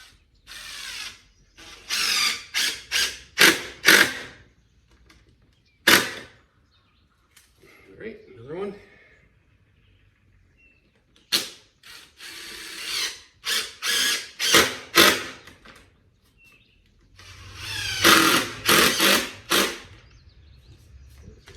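A power driver runs screws into the base piece of a DIY heavy hitch weight cart, in several short bursts of ratcheting, whirring spin separated by pauses, close and fairly loud.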